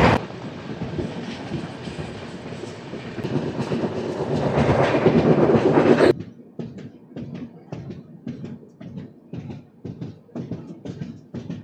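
The Korba Express, train 18518, runs on rails in the rain, first a loud rising rumble and roar, then it cuts to a quieter, steady clickety-clack of wheels over rail joints in a regular rhythm.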